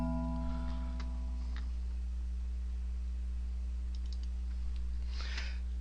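Computer mouse clicks on a desk, a few sharp, faint, sparse clicks over a steady low electrical hum with a brief chirping tone at the start.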